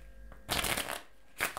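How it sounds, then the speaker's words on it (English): A deck of playing cards shuffled by a magician on a talk show, two quick riffling bursts, the first longer, heard close and fairly quiet. "So, I have some cards, Yes. all different. I'll give them a shuffle."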